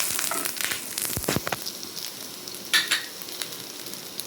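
Garlic, ginger and onion fry in oil in a pan for a wild mango pulimunchi, a close crackling sizzle broken by a few sharp clinks and scrapes of stirring.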